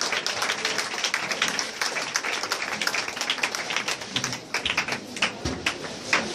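A church congregation applauds, with dense, continuous clapping from many hands that holds steady for several seconds, with faint voices mixed in.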